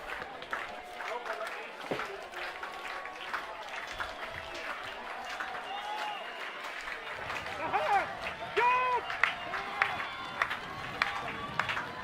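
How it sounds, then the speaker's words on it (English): Crowd noise at a high school football game between California and Mexico: a steady wash of cheering and applause in the stands, building louder in the second half, with a commentator talking over it throughout. "Looks like the California crowd's starting to get back into it."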